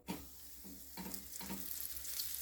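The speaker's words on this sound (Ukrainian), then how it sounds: "І зараз ходімте до плити обсмажувати м'ясо." Veal shank frying in heated rapeseed oil on a stovetop, a steady quiet sizzle with faint crackle and a few soft stirring bumps, no talking.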